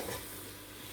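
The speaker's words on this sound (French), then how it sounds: "Je remue avec le fouet pour bien" Broth is whisked into a pot with flour for French onion soup, a short, dense swishing wash of liquid stirring close by.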